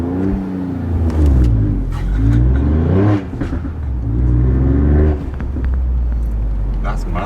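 A Ford Fiesta ST Mk8 engine revs hard on launch, rising in pitch through successive gear pulls with brief dips at each shift, loud and close.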